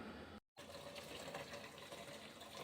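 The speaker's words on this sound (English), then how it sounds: "Just filling it with water." Water runs quietly into the container of a homemade whole-house humidifier, a faint, steady rush broken by a brief pause near the start.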